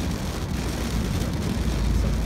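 Heavy rain pours onto a Ford Focus while driving, a dense, steady roar of drops on the car body blended with road noise and no gaps.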